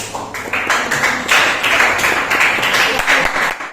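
A classroom group claps for a teacher after a lesson on eclipse prayer, a short burst of scattered hand claps at close range, steady and fairly loud before trailing off.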